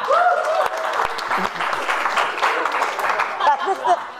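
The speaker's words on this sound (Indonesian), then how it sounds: "Tepuk tangan sekali lagi untuk Johan Juling" Audience applause at a comedy roast show for a stand-up comedian, moderate clapping mixed with cheering voices and laughter, with a host talking over it.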